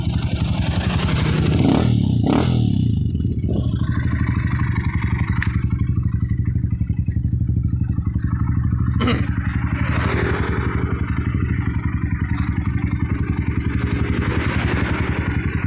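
A Honda XR 200 motorcycle engine runs at a steady, close idle with a throbbing low beat, briefly revving near the start, while a voice talks faintly over it.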